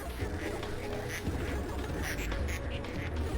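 A pile of ducks in the game Project PITT quacking in a dense, overlapping chorus, steady and close with no pauses.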